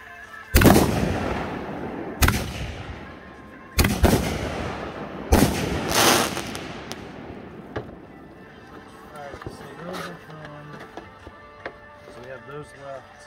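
Fourth of July fireworks in 2021 go off as several loud, sharp booms spaced a second or two apart, each trailing a crackling decay, then thinner pops and fizzes while people talk in the background.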